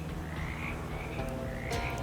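Frogs croak in the video game Shadows Over Loathing, a loud, continuous layered chorus of warbling calls close by, with no talking.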